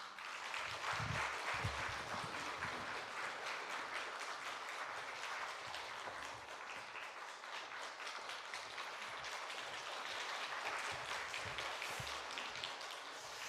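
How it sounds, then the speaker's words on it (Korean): A church congregation claps to welcome the pastor to the pulpit at a women's mission dedication service, a long, steady, fairly soft wash of applause heard alone. "나오실 때 박수로 맞이하겠습니다"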